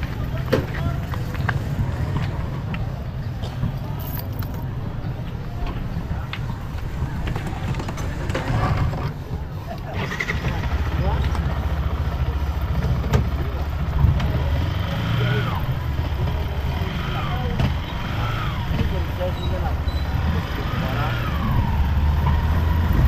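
A motorcycle engine catches partway through and settles into a low, steady idle hum, with people talking over it.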